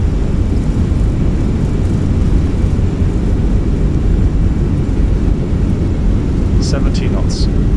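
Thrust reversers on a Fenix A320 landing in Microsoft Flight Simulator 2024: a loud, continuous broadband roar with a heavy low rumble that holds steady from start to finish, and a few short high chirps near the end.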